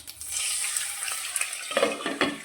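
A splash of water hitting a hot pan with leftover roti pieces, a soft hiss that builds and then breaks into louder bursts of spitting sizzle near the end, close and without voices.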